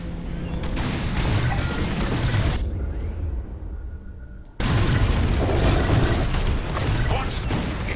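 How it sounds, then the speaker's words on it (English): Bombs detonating on an enemy station in the Star Wars: Squadrons space combat game, a dense, roaring wall of blasts and rumble that briefly drops away before a heavy new burst slams back in at full loudness. "Bombs away"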